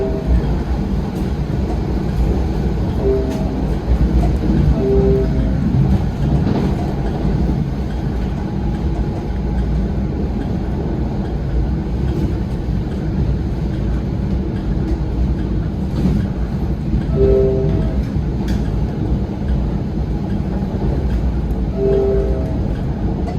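NJ Transit train running between New York and Atlantic City: a constant loud rolling rumble of wheels on rail from inside the car, with the horn sounding in several short two-tone blasts in the later stretch.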